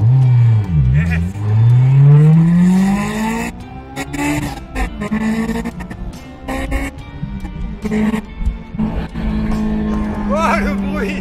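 A Honda S2000 engine revs hard through a standing-start launch, rising and falling in pitch through sharp gear changes, loud and close, with people talking excitedly over it.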